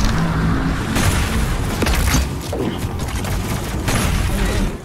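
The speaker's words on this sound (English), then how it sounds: "Toss a grenade onto this platform, fire a quick precision bolt, swap to stickies, and unload all three." Grenade and sticky bomb blasts erupt in DOOM Eternal, loud booms and crackling impacts stacked over a dense, noisy battle din with several sharp bursts.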